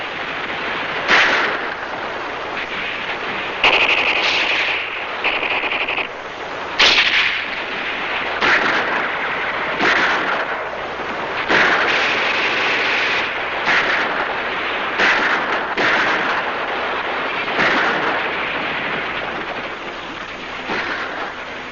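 Steady WWII battle noise of rifle and machine gun fire, dense overlapping shots and short bursts rattling continuously at a loud level, with no pauses and no talk.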